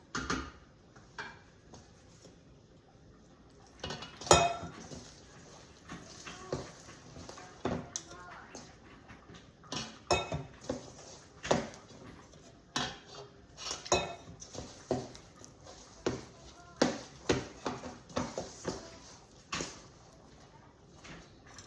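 Bean stew stirred in a pot, with irregular clinks and knocks of a utensil against the metal throughout, close by, with some quiet talk in the background.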